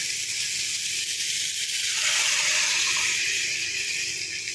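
Thin second coconut milk hits a hot pan of fried ingredients with a steady, close sizzling hiss that swells and then continues evenly.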